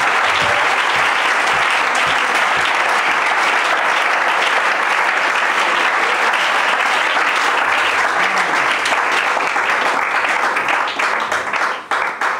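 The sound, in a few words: audience applause and cheering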